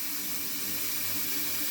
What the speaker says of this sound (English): you're essentially just filling it up with as much as you can room temperature water